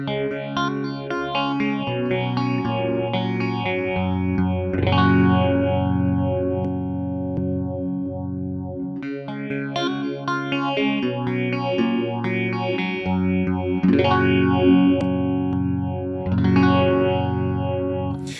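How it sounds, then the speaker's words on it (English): An electric guitar played through a VAHLBRUCH 6-PHI-4 analog phaser pedal in its deeper 6-stage mode, chords and riffs with a slow sweeping, swirling phase shift, moderately loud and continuous with a brief pause midway. "we have a second sound mode, which is the 6-stage phaser, which should be deeper than the 4 stages"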